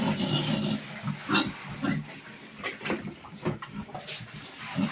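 A pig grunts in short, irregular bursts while being washed on a farm, close and moderately loud, with occasional splashes and a voice speaking softly in the background.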